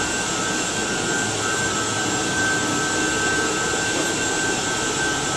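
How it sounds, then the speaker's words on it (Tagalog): A loud, steady air conditioning motor drone with a constant whine, from a centralized aircon system, running evenly throughout with no pauses. "Maingay po kasi yung motor na yan."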